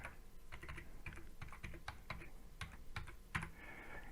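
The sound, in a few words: typing a phone number on a mobile phone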